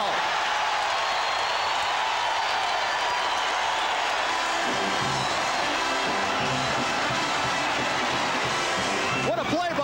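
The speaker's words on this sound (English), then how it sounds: "Listen to this crowd." Basketball arena crowd roaring loudly in a dense, continuous swell that grows fuller midway, with a commentator talking over it.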